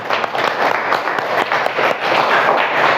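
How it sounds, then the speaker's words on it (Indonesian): A class of students applauds to honour a group that has just presented, a brief burst of dense, lively clapping from the whole room, close and loud, without speech. "tepuk tangan untuk kelompok 3 ya."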